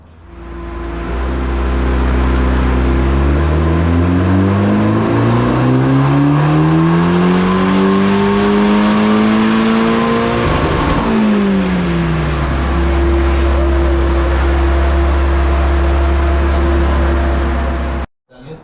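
A boosted Ford Fiesta engine revs up loudly and close, climbing and holding high, dipping at one point and climbing again, then holding a steady, droning high rev until it cuts off abruptly.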